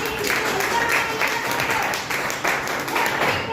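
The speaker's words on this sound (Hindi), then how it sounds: "इतने जोरदार तालियां की" An audience at a gathering bursts into loud, sustained clapping for a man who reached a milestone, a dense wash of many hands close by, with a voice speaking faintly underneath.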